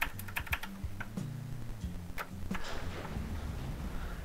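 Keys clack on a new computer keyboard in short uneven bursts of close, crisp taps, with a low hum running underneath and no voices.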